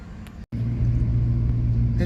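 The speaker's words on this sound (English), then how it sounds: "It took a minute, but it started and it's idling normally now." A project car's engine, after failing to start, turns over and settles into a steady, low idle rumble, with a brief dropout near the start.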